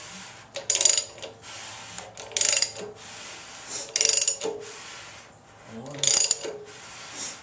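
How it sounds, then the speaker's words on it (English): A ratchet turns an engine crankshaft by hand during an engine build, giving four close bursts of rapid clicking separated by short pauses, with a voice briefly speaking once. "Now I'll do twice around on the crank."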